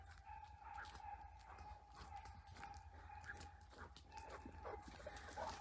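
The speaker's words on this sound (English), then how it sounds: "That's a dog." A dog barks near a campground while boondocking in Wyoming, giving faint, distant, scattered barks over a low steady outdoor hum.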